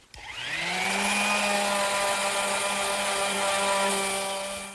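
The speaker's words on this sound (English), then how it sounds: "I'm just going to use my standard palm sander" A standard electric palm sander runs steadily on the wood inside a blanket chest, spinning up at the start into a loud, continuous whirring drone with a sustained motor tone, alone with no talk.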